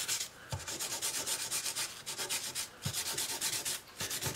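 Sandpaper rubs back and forth over the glossy finish of a Gibson L1 acoustic guitar, a close, rhythmic scratchy rasp in steady strokes, roughly two per second, with faint body knocks.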